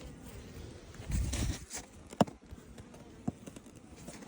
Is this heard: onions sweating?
no